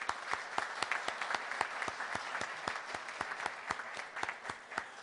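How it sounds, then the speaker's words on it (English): An audience gives a sustained round of applause: dense, even clapping with individual sharp claps standing out, filling the room with no voices over it. "One more round of applause."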